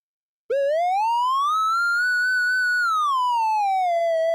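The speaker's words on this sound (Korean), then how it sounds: "삼각파" A triangle-wave synth tone from Chrome Music Lab sounds alone after a brief silence, sliding smoothly upward, holding high, then gliding back down. It stays steady and loud throughout.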